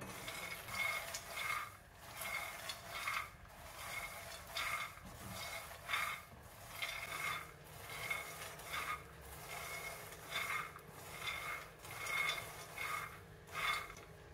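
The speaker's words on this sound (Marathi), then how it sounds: "शेंगदाणे भाजताना एकसारखं हलवत राहायचं। छान खरपूस होईपर्यंत आपण शेंगदाणे भाजून घ्यायचे।" Peanuts dry-roasting in a pan on low flame, stirred constantly with rhythmic scraping and rattling strokes about twice a second, faint and close, with no voices.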